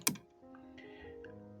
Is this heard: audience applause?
no